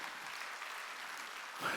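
Church congregation at a Wednesday worship service clapping, a steady wash of applause at moderate level, holding evenly and swelling slightly near the end.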